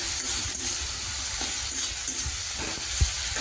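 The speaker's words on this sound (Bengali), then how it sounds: "তার কিছু দিয়ে আমার মশলাটা কষানো হয়ে গেছে এবং তেল ছেড়ে দিয়েছে" Spice paste sizzling in oil in a pan for a Bengali fish curry, a steady close frying hiss with faint crackles and one small knock near the end.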